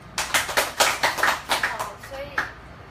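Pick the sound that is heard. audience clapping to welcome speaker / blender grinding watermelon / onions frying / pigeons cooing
audience clapping to welcome speaker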